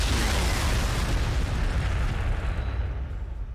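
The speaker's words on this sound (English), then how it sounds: "let's throw some frag back here" A frag grenade blast in the Warhammer 40,000: Sanctus Reach strategy game, heard as a loud, deep, sustained rumbling boom that fills the whole stretch and slowly tails off.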